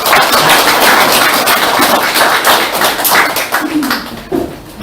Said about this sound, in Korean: 여러분 박수로 환영해 주시기 바랍니다